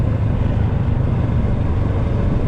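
A motorcycle engine runs steadily while riding along a rural road in Mabitac, Laguna, giving a loud, close, continuous low rumble mixed with wind noise and no change in pace.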